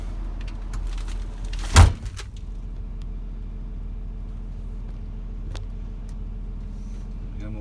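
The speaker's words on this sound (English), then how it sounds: "So, close the door." Cab door of a Volvo EC300E long-reach excavator swung shut, a single solid thud early on, followed by a steady low engine rumble inside the cab.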